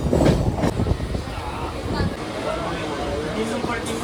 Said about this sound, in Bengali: ট্রেন বন্ধুরা এখন আমাদের প্রবেশ করছে পাঁশকুড়া জাংশন স্টেশনে।